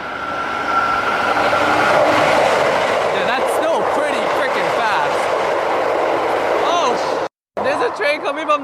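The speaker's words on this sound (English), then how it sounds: "So we're going to wait until a train passes by." An express train rushes through a station near Tokyo, a loud, close, steady roar with rail clatter that holds for about seven seconds before a brief drop and a return of the noise.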